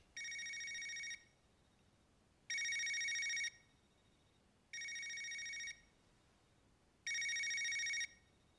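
A phone ringing in the video game Yakuza 1, four evenly spaced electronic ring bursts of about a second each, separated by brief silent gaps, clear and alone with no talk.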